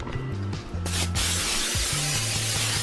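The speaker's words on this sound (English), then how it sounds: "I'm gonna go ahead and spray my pan so that my meat don't stick to the pan." Cooking spray hisses from a can onto a baking pan in one long continuous burst, loud and close, with a brief break partway, while low background music or hum plays underneath.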